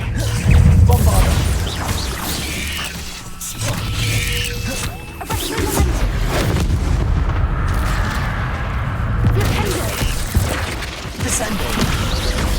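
A Bombarda explosion spell in the Hogwarts Legacy video game: heavy booming blasts and crashing debris roll through loud game action, with a voice speaking over the sustained rumble.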